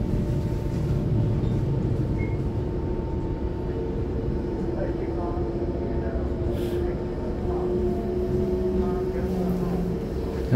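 A Puyuma Tze-Chiang express, set TEMU2027+TEMU2028, runs from Changhua along the coast line toward Hualien with a steady close rumble and a faint high whine; someone talks throughout.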